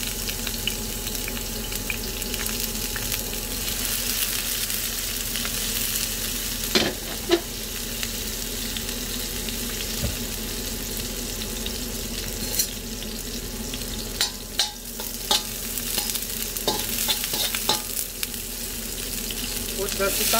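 Garlic and onion frying in a pan, a steady dense sizzle with occasional clicks of a utensil stirring, sustained and close throughout.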